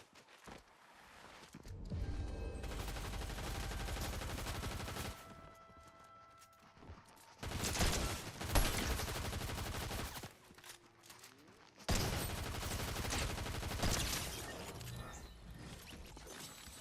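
Rapid close-range weapon fire in the Fortnite video game comes in three long, dense bursts separated by quieter gaps, loud and crackling, with faint mechanical clicks in between.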